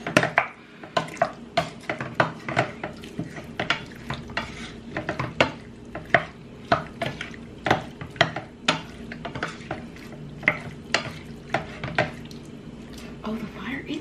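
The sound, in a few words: scraping and stirring in a pan while cooking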